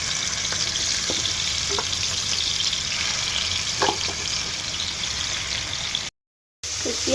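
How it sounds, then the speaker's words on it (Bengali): Fish pieces fry in hot oil with a steady close sizzle and occasional stirring taps, loud and continuous, with a brief dropout near the end. "এবার মাছ ভেজে নেব। মাছগুলো দিয়ে দিব।"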